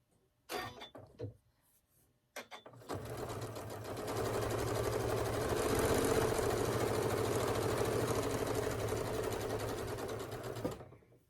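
A sewing machine stitches steadily around the edges of a quilted Halloween table runner, running loud and continuous for about eight seconds after a few short starts and clicks.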